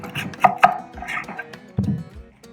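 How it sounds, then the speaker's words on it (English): A knife chopping an onion on a cutting board, several irregular close knocks and cuts with short pauses between them, no talk. "Next, we're going to chop up the onion."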